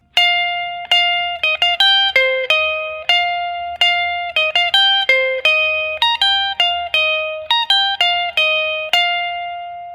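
Electric guitar plays a full riff high on the neck, a run of bright, clean single notes in a steady rhythm, sounding alone and close with no talking.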